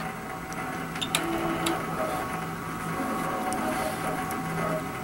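An Innova AutoPilot longarm quilting machine travels to its start position on an edge-to-edge quilt, giving a steady mechanical whir with occasional light clicks and ticks, close and moderately loud.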